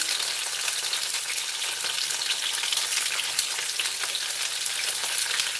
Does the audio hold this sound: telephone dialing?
no